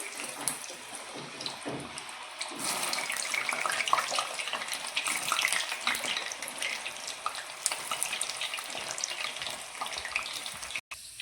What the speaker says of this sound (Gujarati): અને હવે સુરણ તળી લઈશું